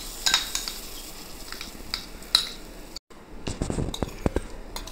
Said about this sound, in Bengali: এবার যে পেস্টটা করেছিলাম সেটা এবার দিয়ে